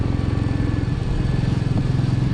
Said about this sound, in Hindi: ट्रैक्टर के पीछे लगाया हुआ कैंपर मैंने ज़िंदगी में पहली बार देखा है